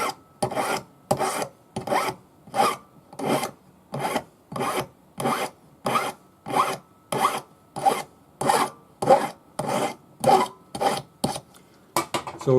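Steady back-and-forth hand filing of metal while shaping a forged snake pendant, about twenty even rasping strokes in a regular rhythm, close and clear with no voices.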